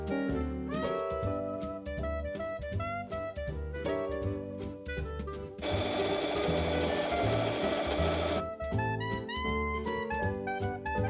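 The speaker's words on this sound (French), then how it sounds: "Dernière étape, on va piquer l'ourlet." A sewing machine stitches the hem of a braided summer dress, running in steady rapid bursts of mechanical clatter with brief pauses and a louder, denser stretch in the middle, close and alone.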